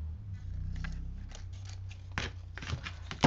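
Paper snipped with scissors while trimming a scrapbook layout, several short crisp cuts close by over a steady low hum, with a sharper snip near the end.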